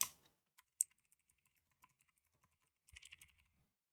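Keys tapped on a computer keyboard, a few sharp isolated clicks followed by a brief quick flurry of keystrokes, close and quiet with no voice over them.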